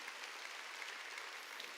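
A church congregation claps during a sermon, a faint, steady patter of many hands applauding together from a distance, without speech.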